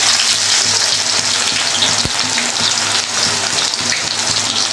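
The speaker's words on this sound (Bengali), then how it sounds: "কড়াইতে তেল দিয়ে দিলাম বেশি করে। আমি বেরেস্তা করে নেব। পেঁয়াজ দিয়ে দিলাম" Sliced onions fry in plenty of oil in a kadai for birista, a loud, close, continuous sizzle like steady rain, with a brief clunk of a utensil partway through.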